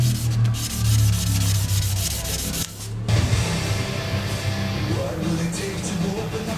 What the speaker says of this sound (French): Et avec un petit ponçage très propre côté turbo.